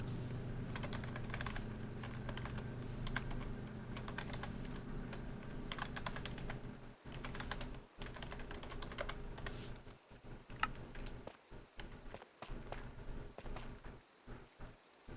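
Rapid, steady clacking of typing on a computer keyboard, close and continuous for about fifteen seconds with a few short pauses.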